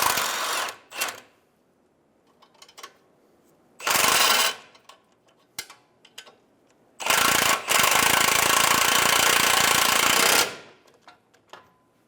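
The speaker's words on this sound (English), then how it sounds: "we'll use an 18mm socket to snug it down" An 18mm socket snugs down the lower ball joint nut on a 2011-2014 Hyundai Sonata, heard as a short mechanical burst, then a longer, louder rattling run of a few seconds, with faint clicks and handling noises between.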